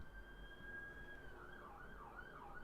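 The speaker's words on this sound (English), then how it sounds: "police car, I'm guessing, just judging by the speed and the lights. Shit, it's an ambulance." An ambulance siren wails steadily, then shifts into a rising-and-falling yelp as it passes, heard at a distance over constant road rumble with no talking.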